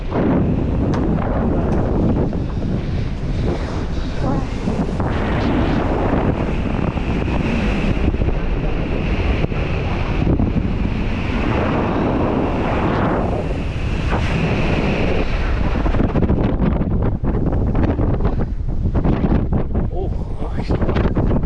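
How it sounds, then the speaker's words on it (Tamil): Strong sea wind roars across the microphone on the Kodiyakkarai coast near the lighthouse, a constant loud buffeting blast with surf-like rushing swells, unbroken from start to finish. "கடல் காற்று தான் அடிக்குது"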